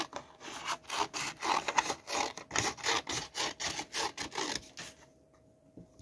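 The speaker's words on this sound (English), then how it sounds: "So I've just cut this 1 inch wide piece" Scissors snip through a 1 inch wide strip of paper for a junk journal pocket, a quick run of about a dozen close, rhythmic crisp cuts, then a brief quiet.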